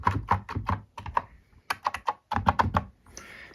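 Keys of a six- or seven-key Perkins-style braille keyboard pressed in quick clusters of sharp, close clicks and thunks, with short pauses between groups and no talking.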